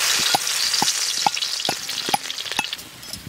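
Garlic frying in mustard oil in a wok, a bright continuous sizzle near at hand, broken by a regular series of sharp ladle taps and stirs roughly every half second.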